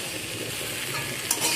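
Ginger being stirred in a cooking pan, a steady close scraping and sizzling texture that runs throughout, with a brief sharper clack near the end.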